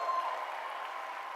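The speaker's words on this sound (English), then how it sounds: "So give him a huge round of applause." Applause from an audience at a talk, a short burst of steady, fairly soft clapping that fills the moment without pause.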